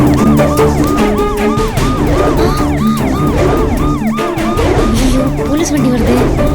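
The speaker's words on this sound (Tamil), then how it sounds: "போலீஸ் வண்டி வருது." A police car siren wails in rising and falling sweeps, loud and close as it approaches, layered over busy music and background voices in a Tamil TV drama.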